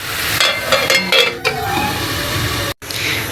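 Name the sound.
tomato puree and potatoes cooking on medium heat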